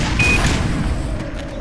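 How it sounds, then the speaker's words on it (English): A Houndeye blows up in the video game Black Mesa: Xen, a loud, booming burst that rumbles and decays over about a second and a half, heard alone. "This is gonna be an explosion."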